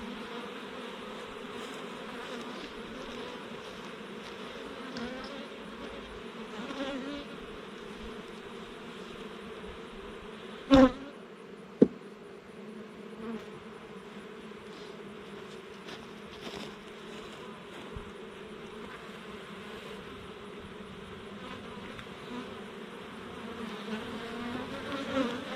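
Honey bees swarm around a hive frame, a dense continuous buzzing drone close by and steady throughout, with a couple of brief sharp knocks partway through.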